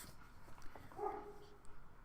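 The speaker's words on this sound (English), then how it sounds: "he barked twice" A dog barks twice, short faint yips at middle distance, under a quiet room background.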